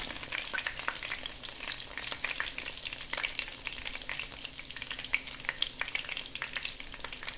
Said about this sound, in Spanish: Vamos a revisar a ver si ya la torta se doraron de ese lado. La volteamos del otro lado.